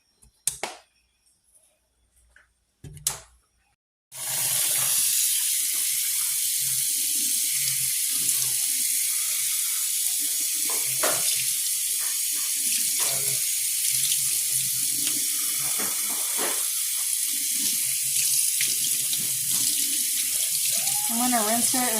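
Rice sits in a strainer under a running kitchen tap, the water pouring in a steady, close, continuous hiss after a few quiet clicks and knocks at the start.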